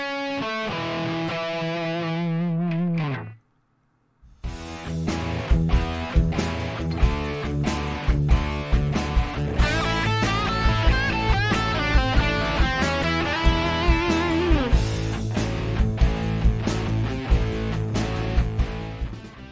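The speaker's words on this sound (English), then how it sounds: "this next blues turnaround is more in the style of a rocky blues sort of thing" Distorted electric guitar plays a blues rock turnaround phrase in A, opening with a sustained bend, a brief gap, then a loud, dense run of picked notes and chords with steady rhythmic attacks.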